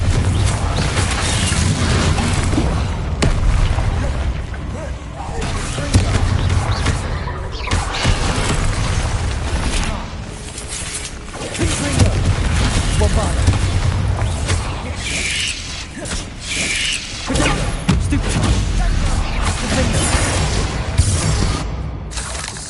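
Confringo fire spells blast repeatedly in the Hogwarts Legacy video game, a long loud run of booming explosions, crashes and shattering debris with heavy low rumble and scattered sharp impacts throughout.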